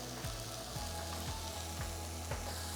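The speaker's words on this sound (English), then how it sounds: "So now I'm going to take some of my shallots and go in there." Shallots hit a pan of browning mushrooms and sizzle steadily, with soft repeated scraping strokes of stirring cutting through the continuous frying hiss.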